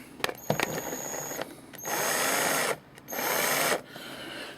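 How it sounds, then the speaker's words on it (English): A cordless drill whirs in two sustained bursts after a few short clicks and taps, close by and moderately loud. "I had to get myself a new cordless drill."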